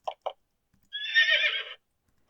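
A horse whinnies once in a video game, a shrill wavering neigh lasting under a second, between short faint clicks in otherwise quiet surroundings.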